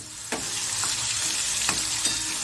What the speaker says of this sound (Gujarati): હવે તેમાં નાખી દઈશું 1 નંગ ટામેટાના ટુકડા.